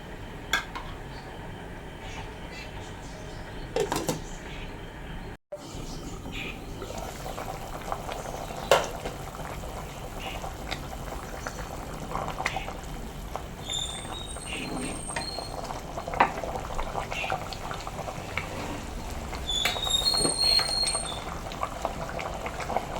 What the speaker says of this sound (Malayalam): നല്ലവണ്ണം തിളച്ച് കുറുകി വരട്ടെ